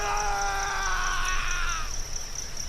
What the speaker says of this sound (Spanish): Ella lanzó un desgarrador grito